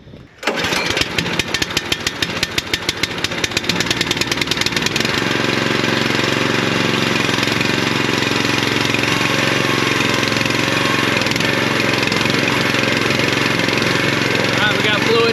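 A small engine on a cheap firewood conveyor cranks with rapid chugging, catches, and settles into a loud, steady running drone, heard close and alone throughout.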